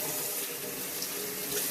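Warm tap water runs in a steady, full, hissing stream while a guinea pig is rinsed off during a bath, with no pauses or talk.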